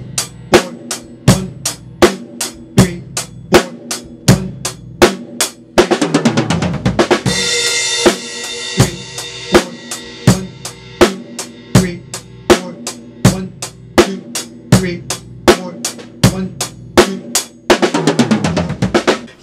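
Drum kit playing a snare roll exercise at 80 beats per minute, steady evenly spaced hits and fills with crash cymbal washes around seven and eighteen seconds, loud and close without any voice.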